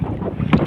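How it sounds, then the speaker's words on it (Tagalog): Wind buffeting a microphone out on the water during a pataw fishing trip, a steady broad rush with one stronger gust near the end. "Ang hangin."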